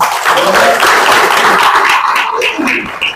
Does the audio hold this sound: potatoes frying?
no